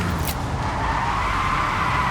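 Vehicle brakes skid in Construction Simulator, giving a loud, continuous tire screech with a steady tone over engine and road noise throughout.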